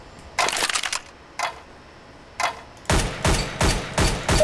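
Rifle gunfire at a target in Counter-Strike: Global Offensive: a burst of rapid shots, a pause, two single shots, then a fast string of loud cracks close up, with no talking.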